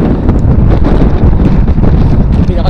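Strong, steady wind buffets a microphone while cycling into a headwind and crosswind near Waterloo, a continuous low roaring rumble that fills the whole stretch with no break.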